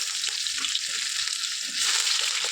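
Onion, cinnamon, cloves and cardamom sizzle in hot oil in a pan, giving a steady, close frying hiss that grows slightly louder near the end.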